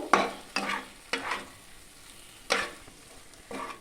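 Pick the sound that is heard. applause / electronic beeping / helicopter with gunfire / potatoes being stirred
potatoes being stirred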